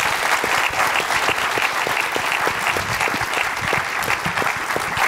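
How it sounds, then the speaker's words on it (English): Loud, dense applause from an audience for a panel discussion, steady clapping throughout with no break. "if we could go ahead and have a round of applause for our panelists."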